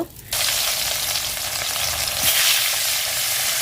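Fish frying in hot oil over a leaf-fired stove, a loud steady hiss and crackle that bursts in suddenly and keeps sizzling evenly without pause.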